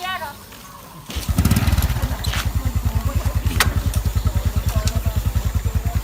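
A small vehicle engine starts with a clatter and then runs steadily in a village market street, chugging in a fast, even rhythm, loud and close.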